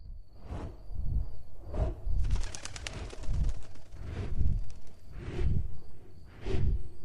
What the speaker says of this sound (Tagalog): Para ba isa itong pakpak ng isang malaking ibon na lumilipad at naglilibot sa bahay namin